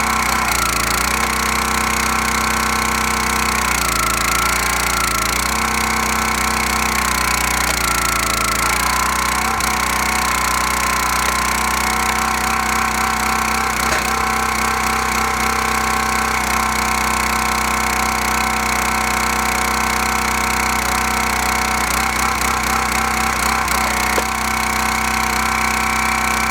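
A Black Diamond wood splitter works through a big, tough chunk of firewood, its engine droning loud and constant while the load shifts and strains through the split.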